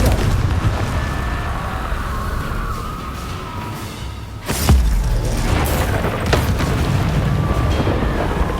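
A Confringo fire spell explodes in Hogwarts Legacy with a loud, deep boom about midway, then a rumbling roar that carries on, amid ongoing in-game ambience.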